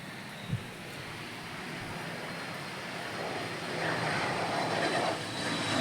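A distant airplane drones overhead, its broad rumble slowly swelling louder, with a brief thump near the start.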